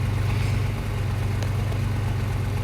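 The engine of a storm chasing vehicle in a tornado video game idles with a steady, close, low rumbling drone and a faint pulsing throb, holding even loudness throughout with no speech.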